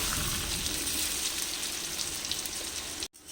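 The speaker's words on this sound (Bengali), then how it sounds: "ভেঙে ভেঙে যেত তার জন্য আমি দুবারে ভেজে নিলাম" Potatoes for aloo dum fry in oil with a steady, crackling sizzle that stays even and close throughout, broken by a momentary dropout near the end.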